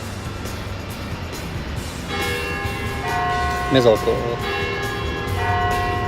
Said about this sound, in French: on est en train de me saboter avec des cloches